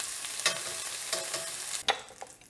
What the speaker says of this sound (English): So I'm going to start removing them from the pan from that same corner.